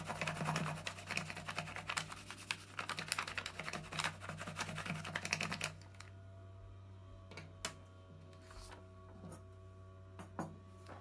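Paper being rubbed over a hole puncher with a crayon for frottage, a dense scratchy scraping that runs steadily for about six seconds, then stops, leaving a quiet room with a steady hum and a few faint taps.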